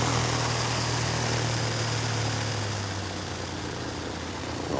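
A light aircraft's propeller engine idles steadily at Elstree Aerodrome while waiting in the takeoff queue, a continuous low drone that holds even and fairly close throughout with no talk over it.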